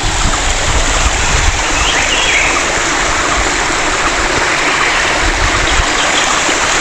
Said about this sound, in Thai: จะเป็นน้ำตกเล็กๆเดี๋ยวจะขึ้นไปชม